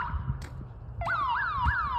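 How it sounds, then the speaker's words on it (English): A car alarm or security system goes off on a residential street. A loud, nearby electronic tone gives way to a repeating rising-and-falling whoop that cycles steadily, with no voices. "It was a car alarm or security system."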